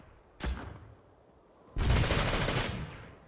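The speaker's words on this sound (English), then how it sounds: "Oh, the art of burst fire." Two bursts of rapid gunfire in a video game, a short volley followed by a longer sustained burst of about a second and a half, loud and close with no talk.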